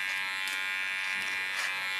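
Electric hair clippers buzz steadily and close while cutting a short pixie haircut, a continuous motor drone with slight shifts as they move through the hair.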